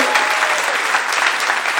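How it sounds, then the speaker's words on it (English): Dense, steady applause from a comedy podcast's live audience, loud and sustained with no pauses. "Round of applause for David Warnocky."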